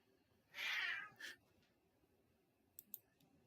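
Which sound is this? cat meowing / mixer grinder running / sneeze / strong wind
cat meowing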